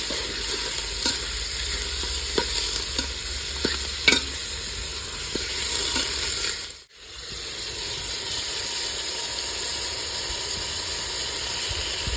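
Mutton frying in hot oil with garam masala in a home kitchen, a steady loud sizzle and hiss with scraping stirs early on, a brief drop near the middle, then continuous frying.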